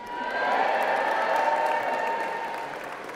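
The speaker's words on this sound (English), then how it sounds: "give a hearty cheer" Graduates at a UCLan graduation ceremony cheer and clap together on cue, a broad, steady crowd roar that swells quickly and holds loud for a few seconds before easing slightly.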